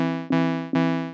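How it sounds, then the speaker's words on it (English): Two sustained buzzy synthesizer notes with bright saw-wave harmonics, each struck sharply and slowly fading, alone and fairly loud. "I am going to set up sound, a synthesizer with a saw wave"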